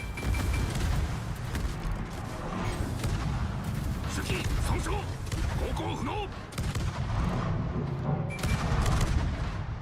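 Warship guns fire in the naval battle game World of Warships, with heavy repeated booming salvos and rumbling blasts that carry on throughout while someone talks over the gunfire.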